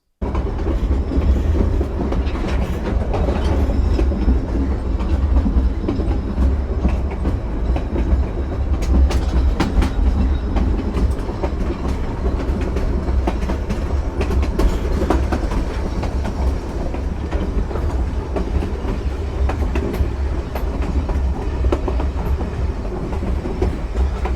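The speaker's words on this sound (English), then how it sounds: "The train continued to zig and zag through Tanglefoot Curve" Cumbres & Toltec Scenic Railroad train rolling along its tracks through Tanglefoot Curve, a steady loud rumble with continuous clickety-clack of wheels, close and unbroken, no talk.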